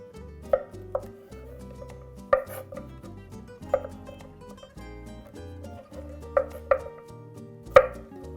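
A knife chops zucchini on a cutting board for pasta primavera, a scattered series of sharp close taps at an uneven pace, with quiet gaps between strokes and no talking.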